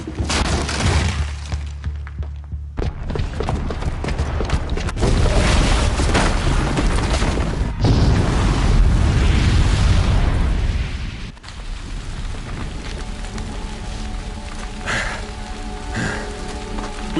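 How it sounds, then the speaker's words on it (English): A booby-trapped bomb goes off in Horizon Zero Dawn, unleashing a loud, sustained roar with crackling debris that rumbles on for about ten seconds before easing to a steadier, quieter wash. "the booby trap on the bomb downstairs is gonna get set off"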